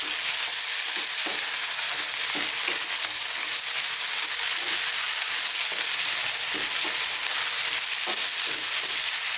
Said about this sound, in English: Fresh coriander or cilantro. We're going to just stir this in.